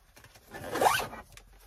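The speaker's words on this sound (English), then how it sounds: "if you don't want to use it as a backpack, you can zip those away" A single close zipper pull on an Osprey Sojourn 80 travel bag as the backpack straps are zipped away, one rising drawn-out zip lasting under a second, clear in a quiet room.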